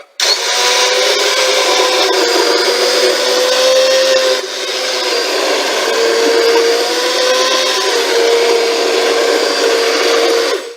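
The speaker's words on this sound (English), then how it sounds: "So I'm going to go ahead and start blitzing all the way down." An immersion blender purees cream of mushroom soup in a pot, a loud, steady motor whine with a slight pitch dip midway as the blade churns the liquid, alone without speech.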